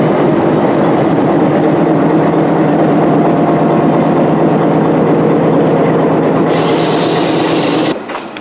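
A train departing produces a loud, steady rumble and grinding roll that builds, with a bright hiss near the end before it fades.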